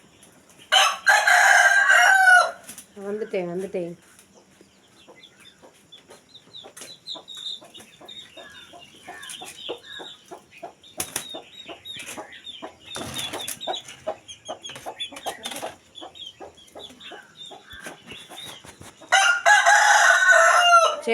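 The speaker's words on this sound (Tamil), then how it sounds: "நம்ம கோழி எங்கே இருக்குது?" A rooster crows loudly at the start and end, with hens clucking and scratching softly in between and a brief voice speaking.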